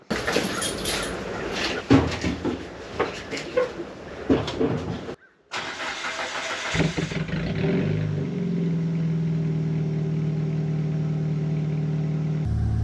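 A Dodge Neon being prepped for racing starts after fuel pump work, with clattering and knocks, a short silence, then the engine settling into a steady idle hum.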